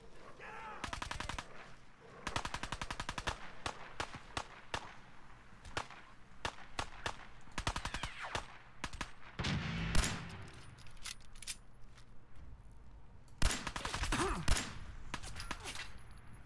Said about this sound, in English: I keep hearing gunshots.